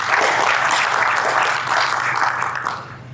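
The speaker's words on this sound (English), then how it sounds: "I think that calls for a clap." A conference audience breaks into loud, dense clapping that holds for about three seconds, then thins and tails off at the end.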